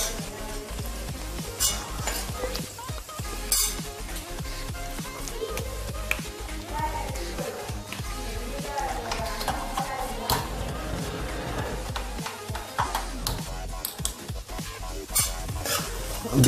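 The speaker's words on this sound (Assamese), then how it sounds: "এতিয়া আলুখিনি ফ্ৰাই কৰি মোটামুটি হৈ গৈছে" Potatoes fry in a pan for an Assamese vegetable thali, with a spatula scraping and stirring through a steady sizzle, repeated clinks and knocks against the pan, close and busy throughout.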